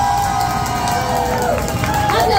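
A short burst of crowd cheering and shrill shouts at a drag queen competition show for contestant Ivy Toxi, loud and close, with scattered claps under the yelling.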